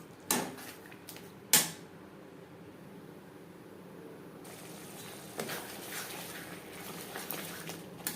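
A spoon stirs masala with tomato paste in a pan for a katla fish curry. Two sharp metallic clanks come early, then a soft sizzle and scraping continue, with lighter utensil taps near the end, close and alone.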